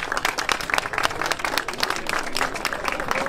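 A crowd at the start of the Tour d'Alsace cycling race claps for the Trinity Racing team, a loud, busy, continuous patter of outdoor applause close by.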